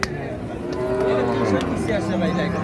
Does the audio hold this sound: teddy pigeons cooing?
no